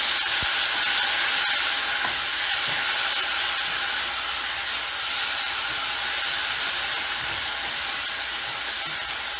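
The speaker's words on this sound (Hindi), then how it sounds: "थोड़ा सा भूनेंगे इसको।" Ingredients for achar roasting in a pan over low heat, a steady loud hiss and sizzle filling the whole clip without pause.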